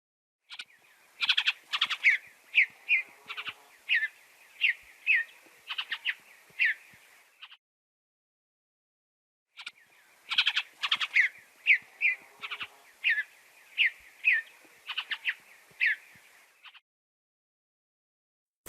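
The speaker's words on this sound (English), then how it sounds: "Bluebird." Bluebird song: two phrases of bright, quick chirping and warbled notes separated by a pause, clear and close with no background noise.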